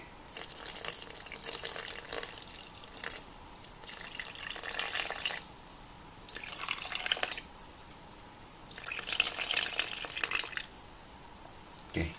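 Water splashing and trickling into a bowl sitting on a kitchen scale, arriving in several separate bursts of pouring with quiet pauses between them.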